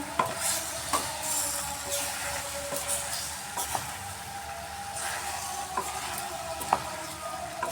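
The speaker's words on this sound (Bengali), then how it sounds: "কুকারটা সরিয়ে আমি আবার সবজিগুলোকে নাড়িয়ে দিচ্ছি" Mixed vegetables with soft sweet gourd and greens tossed through spices in a pan, a low sizzle under intermittent scraping strokes and clinks of the spoon at an uneven pace.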